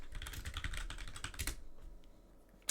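Rapid keystrokes clatter on a computer keyboard as a Linux command is typed, a quick irregular run of clicks that thins out, then one sharper tap at the end.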